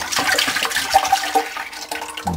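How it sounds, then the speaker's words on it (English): Milk pours steadily into a pot for homemade cheese, a continuous splashing liquid stream that stays close and fairly loud before ending abruptly near the finish. "pour all of this delicious milk"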